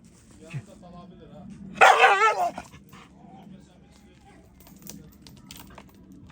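A dog barks in a short, loud burst of several yips, with quieter sounds and faint voices around it.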